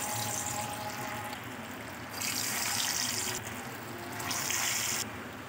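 Seekh kababs fry in hot oil over a slow flame, giving a steady close sizzling hiss that swells louder in two stretches, with no talk.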